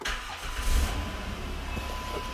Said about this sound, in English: So now that we got those bolts tightened up, so we'll just go ahead and start it.